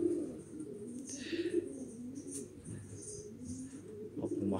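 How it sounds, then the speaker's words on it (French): Around forty young pigeons coo softly and continuously inside a pigeon loft, a low layered murmur of overlapping calls with occasional brief flutters and chirps, quiet and close. "Là, une quarantaine de jeunes dans le pigeonnier"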